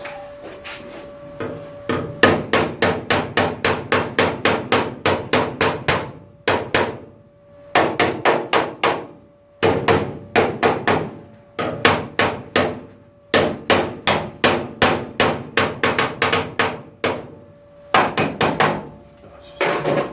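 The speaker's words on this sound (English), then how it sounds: "Where's my little toffee hammer on there?" Rapid, sharp taps of a small toffee hammer during car body restoration on a Mk5 Ford Cortina, in quick bursts of many strikes, pausing briefly between runs, close and crisp with a light ringing tone.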